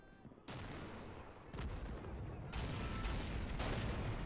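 Heavy mortar fire in the Men of War video game, with several loud booming shots spaced about a second apart, each rolling into a dense, lingering rumble of battle noise.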